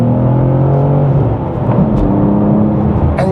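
Either a BMW M2 or a 2023 Audi RS3 accelerates hard at full throttle on a road, a loud, steady engine drone and rumble heard from inside the car throughout.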